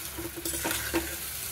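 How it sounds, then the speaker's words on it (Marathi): Mushroom masala bhaji sizzling in a pan as a spoon stirs it, with steady frying hiss and a few scraping strokes against the pan, close and alone. "आणि कोथिंबीर टाकून घ्यायची। सगळं मिक्स करून घ्यायचं।"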